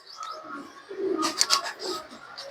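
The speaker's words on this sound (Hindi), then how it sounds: "ये जी बड़ा मेन ब्रीडर कबूतर है बारिश वाला" A five-year-old breeder pigeon of a rain-type Teddy lineage coos close up, soft throaty coos followed by a brighter burst of calls and wing-like flutter, alone without talk.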